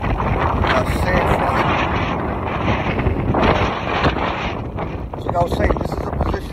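Strong wind buffets an outdoor microphone in a steady, loud roar with gusts, while someone talks over it throughout.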